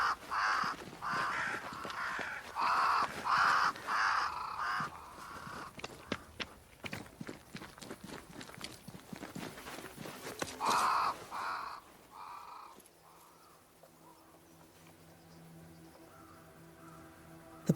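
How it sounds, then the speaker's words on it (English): Crows cawing in a flock around a great tree in the game Banishers: Ghosts of New Eden, repeated harsh caws in bursts over the first dozen seconds, then quieter ambience with faint footsteps. "Crows. They flock to that great tree up there."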